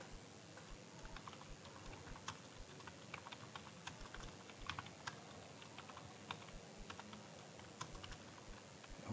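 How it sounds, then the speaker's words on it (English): Quiet, steady typing on a computer keyboard, with many light key clicks and occasional louder taps spread irregularly throughout. "you have to enter what keys of the keyboard to enter text in Word document"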